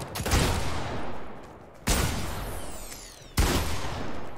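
Three sharp gunshots from a Fortnite match ring out about a second and a half apart, each with a sudden attack and a long decaying echo tail, loud and close with no talking.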